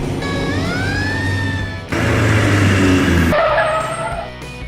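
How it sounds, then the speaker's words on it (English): A compact car's engine revs up in a climbing whine, then roars louder with a rough, squealing edge before easing off. It is close and loud, with no talking. "Compact car."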